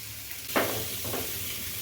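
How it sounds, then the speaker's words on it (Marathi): Onion frying in a pan, a faint steady sizzle with one brief stirring scrape, close but quiet and without speech. "इथे बघा आपला कांदा व्यवस्थित भाजलेला आहे"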